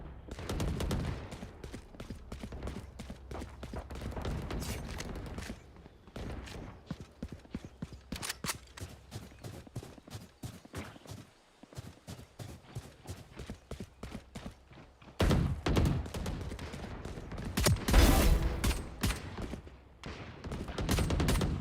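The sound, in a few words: gunfire from Ghost pistol in a video game deathmatch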